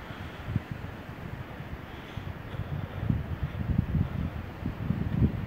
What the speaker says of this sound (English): we got some 60 mile an hour wind gusts out here